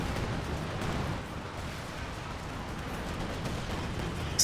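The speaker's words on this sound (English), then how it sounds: "Everything's just exploding." Artillery barrage in a strategy video game: a dense, continuous rumble of overlapping explosions and gunfire, steady and loud throughout with no clear gaps.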